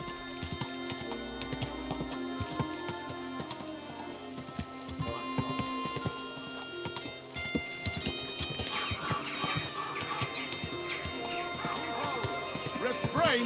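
Horse hooves clip-clop on a path in Kingdom Come Deliverance 2, mixed with a whinny, harness jingles and background game music, while a voice speaks over it.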